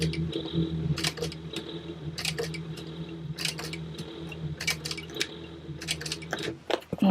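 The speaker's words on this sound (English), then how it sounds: "I'm going to make sure that I back stitch." Sewing machine back stitching through a fabric zipper pouch, a steady mechanical whir with dense rapid stitching ticks and intermittent clicks running throughout at moderate, close volume.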